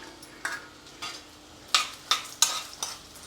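Lentils, coriander seeds and cumin frying in a little oil for stuffed brinjal masala, a soft sizzle under several scraping stirs of a spoon in the pan, close and fairly quiet.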